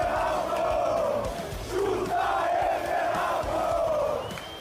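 Fluminense supporters at a Club World Cup match in the United States roar a loud, sustained chant for striker Everaldo, the massed crowd voices rising and falling in repeated swells.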